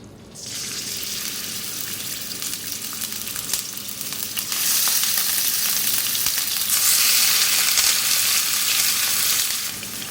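Hand-pounded beef mince with ginger-garlic paste and salt sizzles in hot oil in a wok, a bright steady crackle that swells louder midway, with occasional stirring scrapes and no talking.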